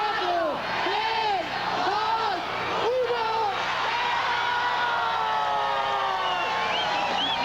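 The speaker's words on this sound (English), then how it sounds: "The crowd counting down, popping champagne bottles, and now fireworks." A crowd cheers and whoops at a millennium New Year celebration in 2000, with loud overlapping shouts and rising cries filling the clip, a sharp burst near three seconds, and a steady roar that continues after it.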